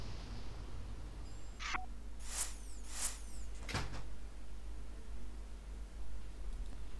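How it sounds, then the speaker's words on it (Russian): A door shuts in the stealth video game Hitman: Blood Money, a few sharp clacks and a thud over a steady ambient hiss, with no talking. "Закрой дверь."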